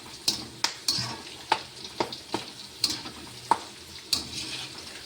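Chicken kebab frying with curry leaves in a pan, a continuous sizzle broken by a regular series of sharp scrapes and clinks from stirring, close and with no voices.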